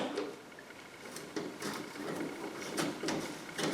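A socket-driving screwdriver works 7 mm screws out of the front badge on a third-generation Chevrolet Camaro, giving close, irregular clicking and ratcheting bursts throughout.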